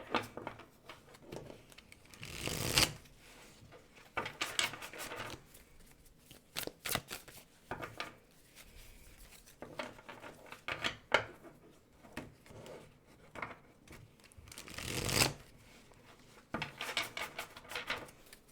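Tarot cards are shuffled and drawn by hand, giving soft riffling and sliding bursts with occasional louder flurries, close and quiet, without talking.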